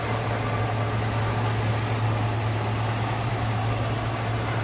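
A 1966 Ford Mustang coupe's 200 cubic inch inline-six idles steadily, fitted with a newer fuel pump, AC components and a newer radiator, giving a constant low hum with a strong steady drone throughout and no voices.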